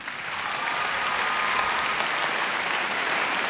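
Sustained applause from a theatre audience welcoming a singer onstage at a live opera competition final, a steady dense wash of clapping that swells in and holds strongly throughout.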